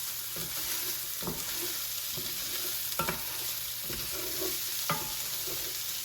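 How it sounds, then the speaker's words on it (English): Broccoli and sausage with seasoning sizzle steadily in a pan while a utensil stirs in several distinct scraping strokes, fairly soft and close. "And stir all that together"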